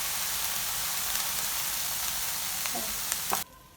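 Vegetables with salt sautéing for a stuffed omelet, a loud steady sizzle and frying hiss filling the pan with a few faint stirring clicks before it cuts off abruptly.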